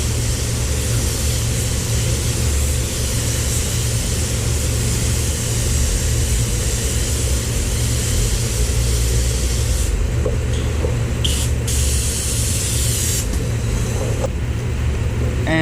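A PPG paint spray gun sprays a coat at around 22 PSI: a loud, steady hiss of compressed air running throughout, with brief pauses where the trigger is released near the end.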